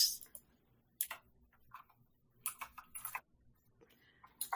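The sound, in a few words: aggressive typing on a keyboard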